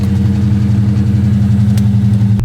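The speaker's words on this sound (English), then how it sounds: "this is the official last cold start. You hear the E85 pumps priming up" A 2004 SVT Cobra Mustang engine running on E85, loud and close with a steady low, throbbing idle rumble that holds evenly throughout, and no voices.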